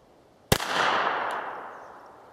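A single sharp gunshot from a North American Arms .22LR mini revolver cracks close by, trailing off into a long fading echo, with no voices.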